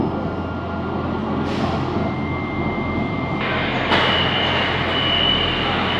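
A Shenzhen Metro line 10 train runs with a steady rail rumble and rising electric motor whine, with faint wheel squeal and a couple of brief chime tones, close and continuous.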